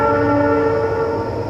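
A train horn sounds loud and close, a sustained harmonic blare held for the whole moment over rumbling rail noise.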